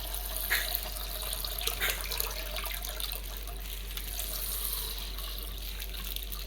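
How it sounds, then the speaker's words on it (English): Water pours from a tap into a bowl of soaked garri, a steady splashing gush at moderate level with a few brief louder splashes, continuous and without talk. "And then now I'm going to add another water."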